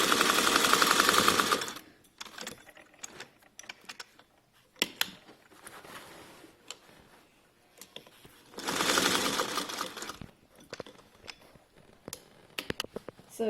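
A sewing machine stitches fabric for a yoga bolster made from blankets or throws. It runs in two loud, steady whirring bursts separated by a quieter stretch of clicks, fabric handling and small mechanical taps.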